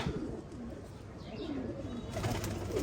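A Ferozpuri pigeon coos in low, rolling murmurs amid a dense, quiet bed of other pigeon sounds and faint chirps, with a brief brighter rustle near the end.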